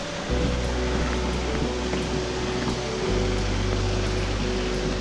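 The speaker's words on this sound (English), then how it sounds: "So calming having the sound of the river just there in the background" Steady broadband rush of a river flowing through a canyon on a walk, continuous and fairly loud, with a low rumble underneath and no talking.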